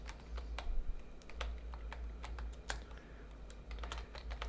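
Someone types a command on a computer keyboard in a quick run of close, crisp key clicks with short pauses, over a low steady hum and no talking.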